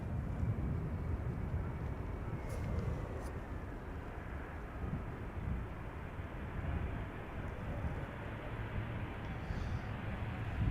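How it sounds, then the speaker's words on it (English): An Embraer 175 arrives at Schiphol Airport from Aberdeen, a continuous broad engine roar that holds steady throughout, fairly loud and distant. "Embraer 175 arriving from Aberdeen"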